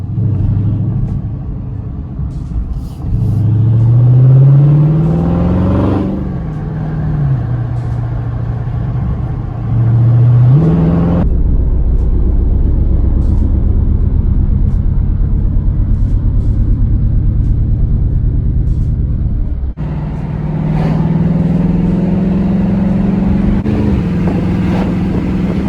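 2021 Dodge Charger Widebody exhaust with the mid muffler deleted, a loud, close, continuous rumble with rising and falling engine revs and wind buffeting, and no clear distinct pops standing out.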